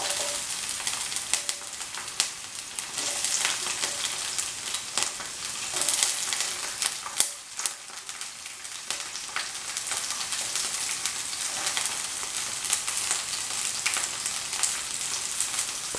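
Chopped capsicum sautéing in a hot pan for gobi manchurian, a loud continuous sizzle with crackling spatters and occasional scraping stirs, close and steady with no talking.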